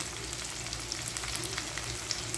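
Vegetables frying in a pan, among them eggplant, drumstick, plantain, lentil dumplings (bori), carrot and sweet potato, giving a steady close-up sizzle with fine crackles and pops throughout, no voices.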